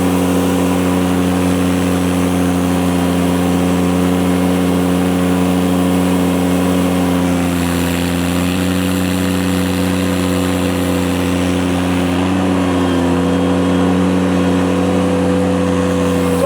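A snow blower clearing a snowy walkway runs with a loud, steady engine drone close by. The pitch dips briefly around the middle and then holds a constant hum, with no talking.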